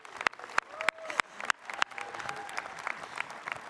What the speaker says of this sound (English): Another round of applause for these high school teachers